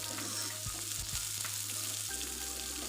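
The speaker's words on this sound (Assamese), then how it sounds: "মই পিঁয়াজখিনি ভাজিব লৈছোঁ" Onions frying in a pan for egg chowmein, a steady dense sizzle crackling throughout at close range, with a few soft stirring knocks and a slight shift in tone near the end.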